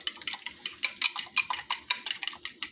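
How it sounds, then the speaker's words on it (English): Eggs being stirred into butter in a bowl for Mexican bolillos sweet bread, a quick run of rhythmic clinks and scrapes of a utensil against the bowl, close and fairly quiet. "we are just gonna stir this up to mix it real good"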